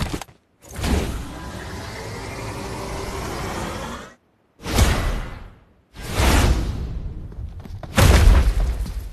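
Grenade blasts in a PUBG Mobile match come as several separate loud booming bursts with rushing, whooshing tails, divided by brief silences and heard up close.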